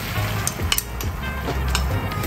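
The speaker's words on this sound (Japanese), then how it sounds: "卵投入" Eggs poured into a hot pan of butter and a little oil over medium-low heat for omurice, sizzling steadily up close, with light clinks of a utensil on the pan.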